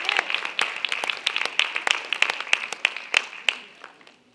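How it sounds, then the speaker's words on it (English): Audience applause at a Black History program at a church, a lively burst of many hands clapping in quick irregular slaps that gradually thins and fades toward the end. "Let's give them a hand clap."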